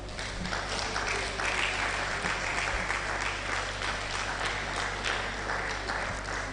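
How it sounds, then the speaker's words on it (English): Sustained applause fills the hall at a 2024 STEM event, a dense continuous wash of clapping from a large audience, steady and fairly loud throughout. "Let's keep clapping."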